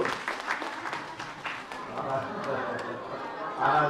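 Applause from a church congregation at a children's Shema school session rings out after the children bow and greet, a steady patter of clapping mixed with chatter and voices talking over it for about four seconds.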